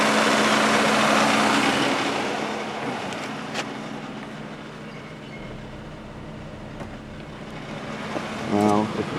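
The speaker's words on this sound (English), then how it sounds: "Now if you shut the vehicle off, fans stay running for 90 seconds." Radiator cooling fans running on a 2002 Pontiac Grand Prix GT make a steady, close-up whoosh and hum that eases slightly, then rises again near the end.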